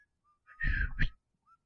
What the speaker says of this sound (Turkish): Islık çalıyor.